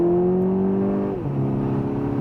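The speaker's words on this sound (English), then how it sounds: "Now the engine is warm, so I can floor it." A 2015 Volkswagen Scirocco 2.0 TSI R-Line engine at full throttle from inside the car, a loud rising drone that drops sharply at a gear change and then climbs again.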